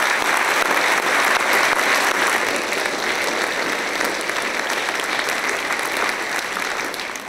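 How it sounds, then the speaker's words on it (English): Sustained audience applause at a college presidential inauguration ceremony, honoring the event organizers; a full, even wash of clapping that stays loud and tapers slightly at the end. "Please join me in a round of applause for these folks who put this together."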